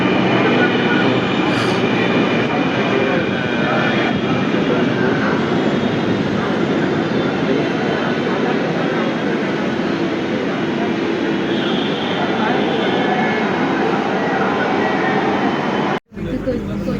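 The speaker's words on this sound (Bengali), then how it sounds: "ঢাকার মানুষের কাছে আমাদের ট্রেনটা চলে আসছে" A Dhaka metro rail train, bound for Motijheel, arrives with a loud, steady roar and high whine that fills the space, then cuts off sharply at the very end.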